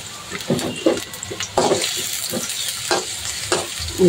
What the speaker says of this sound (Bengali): আমি এখন বড় 3টি পেঁয়াজ কুচি করে তেলের মধ্যে দিয়ে দিলাম।